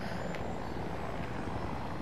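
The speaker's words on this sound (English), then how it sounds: "I'm in a chopper." A helicopter flies in Battlefield 2042, giving a steady, fairly faint whirring engine and rotor drone that holds without a break.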